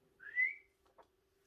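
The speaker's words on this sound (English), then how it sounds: "Can you whistle?" A person whistles a single short rising-and-falling note, clear and close, followed by a faint brief second chirp, with quiet surroundings and no talking.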